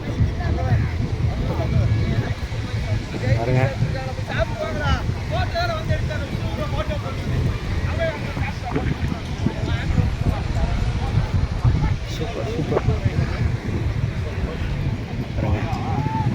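A speedboat ride off Goa, with a constant roar of wind buffeting the microphone over engine rumble and water rushing past the hull, while voices talk underneath the din.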